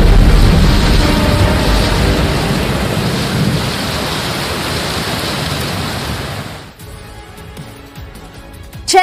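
Heavy rain pours down during a thunderstorm in Chennai, a dense loud roar with low rumbling thunder underneath that eases and thins near the end.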